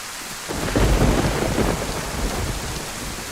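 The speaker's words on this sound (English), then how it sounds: "Yeah, it does rain enough, doesn't it?" Rain pours steadily in the DayZ video game while a deep roll of thunder swells in after a brief moment and then fades back into the hiss of the downpour.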